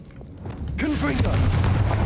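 A Confringo blasting spell goes off in Hogwarts Legacy with a deep, loud boom that swells and holds as a sustained rumble, with a voice briefly audible underneath.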